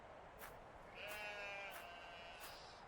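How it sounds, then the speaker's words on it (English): Goats bleat in a North African town scene from the point-and-click adventure game Lost Chronicles of Zerzura, several wavering cries at a moderate distance over a steady ambient background, no talk. "Goats, indisputably."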